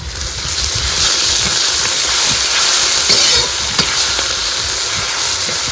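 Onion frying in hot oil with ginger and garlic just added, giving a steady, loud sizzle and hiss with faint stirring scrapes throughout and no voices.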